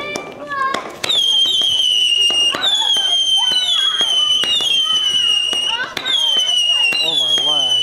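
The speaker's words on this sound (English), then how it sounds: "I love fireworks a lot." Fireworks burst and crackle one after another at a fireworks night in Lincolnshire, sharp bangs followed by high whistling trails, with voices calling out between the blasts.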